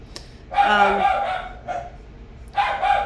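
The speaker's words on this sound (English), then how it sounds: "So sorry for the dogs." Dogs bark indoors in three separate bursts, a couple of sharp close barks and yips with pauses between, over a quiet room background.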